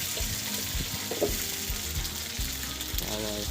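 Oregano leaves frying in oil with a dense, steady sizzle, as they are stirred with soft scraping and ticking sounds from the utensil.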